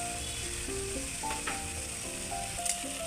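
Ground turmeric, cumin and coriander powder fry in oil in a pan for a pointed gourd (potol) kofta curry, giving a steady, soft, close sizzle with faint clinks throughout.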